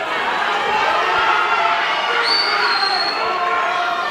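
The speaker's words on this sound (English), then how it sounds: "The crowd getting right behind these two gentlemen." A boxing crowd at a bout cheers and murmurs as a steady, dense wall of noise, with a brief whistle or shout rising above it partway through.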